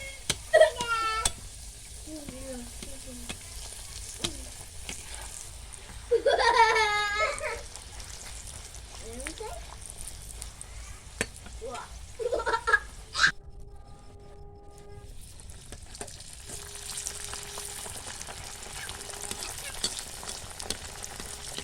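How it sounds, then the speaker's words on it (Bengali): Green pea kachori pastries deep-fry in oil with a continuous soft bubbling sizzle, while an infant's cries and occasional voices sound intermittently in the background. "কচুরিগুলো হালকা আছে লাল লাল করে ভেজে নিতে হবে।"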